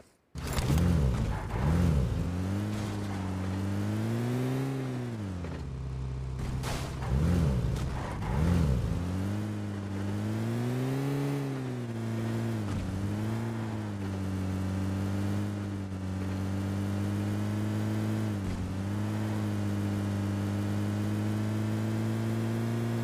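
A car's engine in PUBG Mobile revs and drones as the vehicle is driven, the pitch rising and falling repeatedly with each acceleration, loud and close for over twenty seconds.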